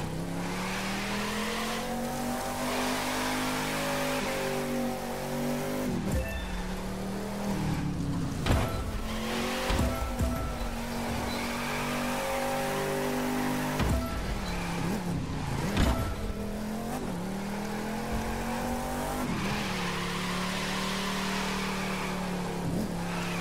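Drift car in a racing video game, its engine revving up and down in repeated surges, with tires squealing and skidding through slides. It is loud and continuous, with no voices.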